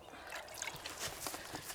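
Water trickles and splashes faintly onto grass beside a pond where a small catfish is set down. The soft, uneven dribble runs continuously and close.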